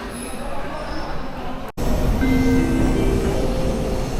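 A subway train runs through Busan Station with a steady, loud rumble throughout, a brief dropout partway, then continuing with faint wheel whine.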